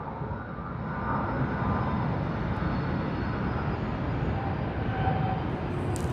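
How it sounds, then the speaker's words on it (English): An airplane takes off at Sydney Airport, a steady distant roar of jet engines rising broad and even across the runway with no voices present. "Ooh, there's the takeoff out there."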